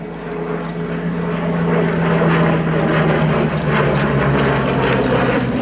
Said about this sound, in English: Hawker Hurricane V7 497. Being flown for us today in his second appearance at this show by Ian Austin.